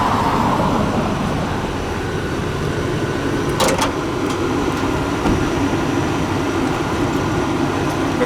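Steady engine idle from a 2001 Chevy Express 1500 passenger van with a 5.7-liter V8, a continuous low rumble held loud and close throughout, with a short rattling transient partway through.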